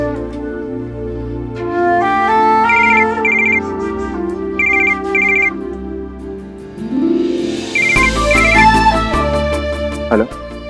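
A telephone ringtone plays a repeating melodic electronic tune, loud and close, layered over background music in a Hindi TV drama scene.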